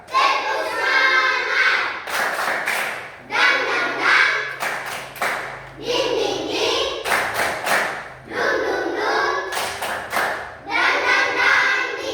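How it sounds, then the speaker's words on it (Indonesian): A group performs a rhythmic spirit clap at the opening of an activity, with bursts of loud, sharp claps in patterned sets that pause and repeat several times across the clip. "kita akan melakukan tepuk semangat"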